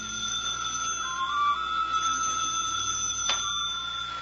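Telephone ringing somewhere in a cluttered living room in a 1950 radio comedy, a steady electric ring with sustained tones running throughout, fairly loud and alone.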